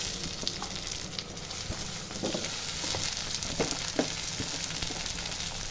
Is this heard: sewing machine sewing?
no